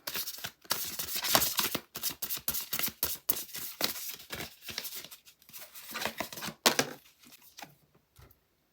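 Affirmation cards being shuffled by hand, close and fairly quiet, in irregular bursts of riffling and flicking separated by short pauses, with no talk.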